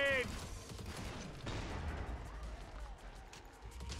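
A Deagle pistol fires in the Killing Floor 2 video game: a loud, heavy shot opens the clip and rings out, with another blast about a second and a half later over a noisy battle din.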